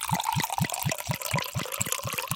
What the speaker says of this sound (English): pour yourself a glass of tasty wine